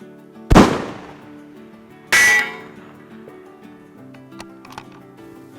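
A Tikka T3X chambered in .260 Rem fires two sharp shots at a long-range shooting session in Australia. Each crack stands out loudly, about a second and a half apart, followed by fainter clicks and handling noise.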